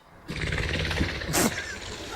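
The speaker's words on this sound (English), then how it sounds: "That is the sound of a partridge Partridge. taking off." A partridge bursts into flight with a rush of whirring, fluttering wingbeats, a dense noisy flurry lasting a couple of seconds with a sharper peak near the end, heard close and loud.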